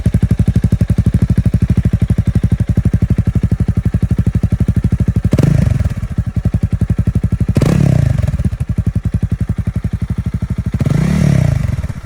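Honda CRF300L motorcycle engine running close by with a loud, grunty, steady thump, rising in a few brief revs, with some clatter and thuds.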